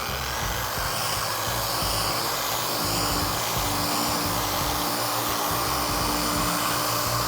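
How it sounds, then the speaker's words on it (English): A machine polisher drives a clay pad across car paint, giving off a steady, loud whirring hum that carries unbroken throughout with a broad hiss layered over it. "Simply the weight of the polisher here is all you need to glide the clay"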